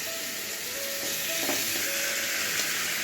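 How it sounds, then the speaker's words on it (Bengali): Chicken pieces dropped into hot oil in a pan crackle in an even, close, continuous sizzle with a few brief pops, with no talking. "চিকেনগুলো আমি এই তেলের মধ্যে ছেড়ে দিলাম"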